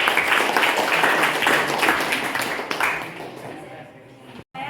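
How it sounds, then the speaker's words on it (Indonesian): A crowd claps and applauds, loud at first then gradually fading out, ending in a brief silence. "Semua tepuk tangan."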